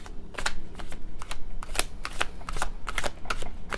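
A deck of tarot cards shuffled by hand in quick, uneven bursts of crisp riffling and flicking, close up, with the cards sticking together a little and no one talking.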